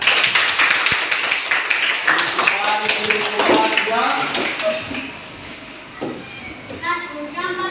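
A class of children claps in a loud, quick patter and taps along, then it tapers off and young voices chatter and call out close by.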